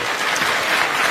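Audience applause at a talk, a dense burst of clapping filling the whole short moment, close and fairly loud.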